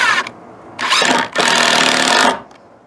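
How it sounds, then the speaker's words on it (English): A power drill drives a final screw to secure DIY outdoor porch stairs, giving two loud bursts of motor whine, one short and one about a second long, close by with no talk. "Put in this last bolt, this last screw to secure it."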